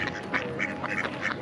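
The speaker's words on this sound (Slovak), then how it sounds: "Tam je kačička, no?" A duck quacks repeatedly in short, nasal bursts close by near water, with steady outdoor background noise and no talking.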